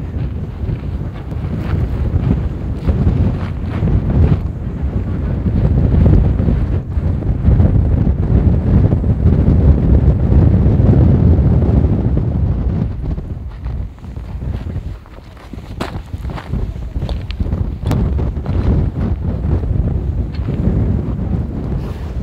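Strong, cold wind roaring across the summit of Litlihrutur volcano in Iceland, a loud continuous buffeting rumble against the microphone that swells and eases in gusts, with no talk.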